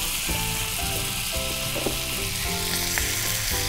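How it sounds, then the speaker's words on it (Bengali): Garlic sizzling in butter in a frying pan after seared meat, a steady loud crackle with faint clinks and scraping throughout, no talk. "এখন এই বাটারে যাবে রসুন।"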